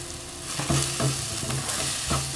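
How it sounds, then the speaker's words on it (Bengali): Ground spices, chili powder and cumin powder fry in a pan for a dried Bombay duck bhuna. A close, continuous sizzle is broken by several scraping stirs of a spatula, with no talking. "আমি একটু ভেজে দিয়ে দিচ্ছি গুঁড়া মশলা, মরিচের গুঁড়া, একটু জিরা গুঁড়া"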